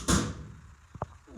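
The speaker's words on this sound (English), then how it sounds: "hammer it in with a hammer" A hammer drives a plastic wall plug into a drilled hole in a wall while a 30 amp dryer circuit is being installed. One heavy thump is followed by two quick, sharp knocks close by.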